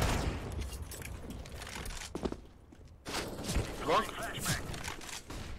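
Gunfire bursts and impacts in an online shooter video game, with a pause mid-way, mixed with footsteps and a player speaking over the action.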